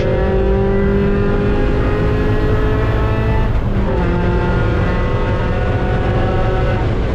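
Race car engine held at full throttle during a race at Mid-Ohio, a loud, sustained, tonal roar heard from the cockpit, its pitch dipping briefly midway before climbing again.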